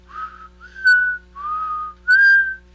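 A person whistles four separate tones, alternating lower and higher sustained notes with short pauses, clear, close and alone.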